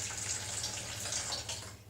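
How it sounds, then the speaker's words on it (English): Water pours steadily into a pan of rice pudding being made with coconut milk, a continuous splashing rush with no talk. "And then I've got to top up with 200 mils of water."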